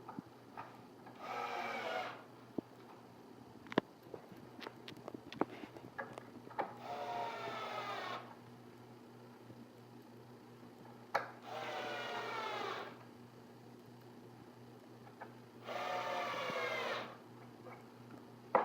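Four black screws are driven back into a CompuCaddy Hybrid cart in four separate bursts of faint ratcheting whir, each lasting a couple of seconds, with scattered small clicks and taps between them.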